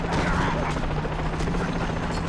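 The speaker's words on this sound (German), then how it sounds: "Ich soll den Helikopter töten." A helicopter in the video game Far Cry 3 drones with a continuous rotor thrum amid game combat noise, steady and fairly loud, with a voice talking over it.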